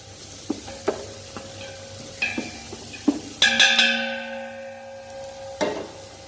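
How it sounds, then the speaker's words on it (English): Onions sautéing on a low flame, a soft background sizzle broken by several distinct spatula clinks and scrapes against the pan, with one louder ringing metallic knock midway. "now the onions are sauteing"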